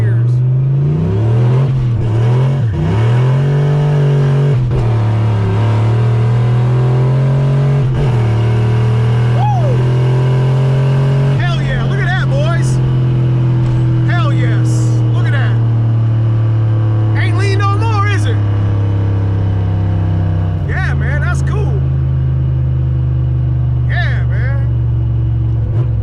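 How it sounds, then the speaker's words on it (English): Turbocharged Foxbody Mustang with a stock-block GT40 engine pulling hard through several gears, its loud engine note climbing in pitch, dropping at each shift and rising again, with a voice talking over it. "so let's go through the gears"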